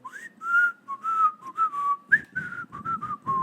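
A person whistles a short theme-song melody, a series of clear, slightly uneven notes with audible breaths between them, close and fairly soft.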